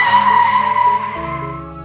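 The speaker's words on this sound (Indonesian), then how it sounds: "Doni langsung injak rem." Hard car braking sound effect with tires skidding: a sustained screech at the start that drops in pitch, steady and loud, then fades as it tails off.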